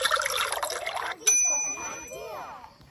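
Milk pours into a measuring cup in a Curious George cooking video game, a brief liquid gurgle under a voice, then a bright chime ding and a short bubbly trickle that fades.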